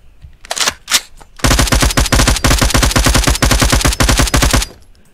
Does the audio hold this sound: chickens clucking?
no